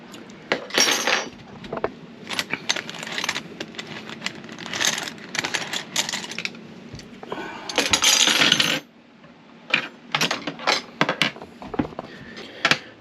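Metal ratcheting wrenches, 10 and 12 millimetre, clinking and rattling against each other in a tool tray as they are sorted, with dense close jangles, a longer rummaging burst and then sparser single clinks.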